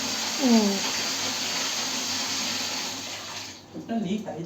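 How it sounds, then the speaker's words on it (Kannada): Water leaks from a tap fitting as a steady, close hiss of spraying water. A brief voice is heard near the start, and a clattering shift comes toward the end. "ಲೀಕ್ ಆಯ್ತಲ್ಲ, ಒಂಚೂರು ಲೀಕ್ ಆಯ್ತಲ್ಲ ಇವಾಗ."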